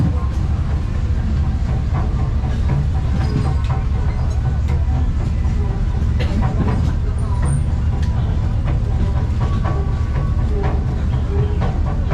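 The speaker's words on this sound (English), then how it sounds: "I was gonna keep filming on the train" Constant low rumble and rattle of a moving train in Hong Kong heard from inside a carriage, with faint clicks and creaks over the steady roar.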